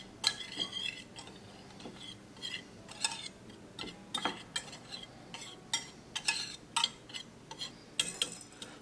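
A utensil stirs a dry coating of all-purpose flour, salt and black pepper in a bowl, giving quiet, close, irregular scraping and clinking strokes at a steady working pace.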